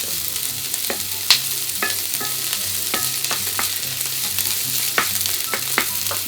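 Ingredients for kimchi fried rice, cooked until lightly browned and translucent, stir-fried in a pan. A steady sizzle runs under repeated scraping strokes of a utensil against the pan, with one sharp clack near the start.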